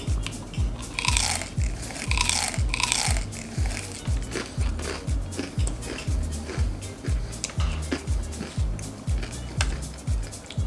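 Crispy pata, a deep-fried pork knuckle, crunches loudly and repeatedly under close bites and chewing, with a steady rhythm of crisp cracks running throughout and no talking.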